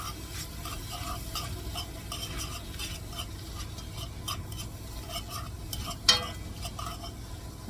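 Lean ground beef fries with butter in a pan, a steady close sizzle broken by repeated scraping stirs and one sharp clink of a utensil against the pan.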